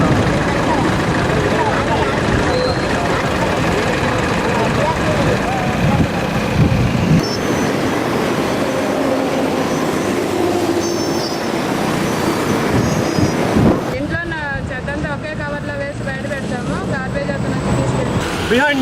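Trucks and traffic rumble steadily at a city garbage dump yard where vehicles unload collected waste, a continuous loud roadway drone with passing engines throughout and a voice talking over it.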